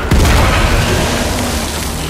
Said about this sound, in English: Oh shit, the pipe bomb.